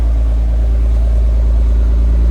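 A 1994 Jaguar XJS coupe's supercharged 4.0-litre AJ16 inline-six idles steadily with a low, even hum and a strong rumble underneath, no revving, close by.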